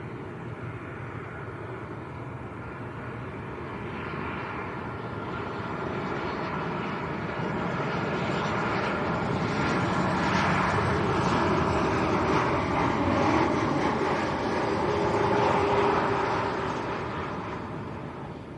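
A Norwegian Boeing 737-800 arriving from Oslo at Lanzarote Airport gives a sustained broadband jet roar that swells gradually over about eighteen seconds and stays steady and moderately distant.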